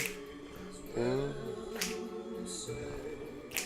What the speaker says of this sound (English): I think it would be better to snap to this one than to clap.